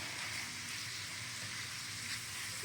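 Sausage frying in a skillet while being stirred, a steady close sizzle with light scraping throughout, no voices.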